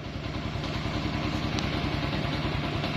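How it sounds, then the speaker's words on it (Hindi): A motorcycle engine running just after starting, a steady close chugging idle with rapid even pulses and some clatter, continuing without talk. "ये देखे बाइक स्टार्ट हुए कैसे उठी एकदम से"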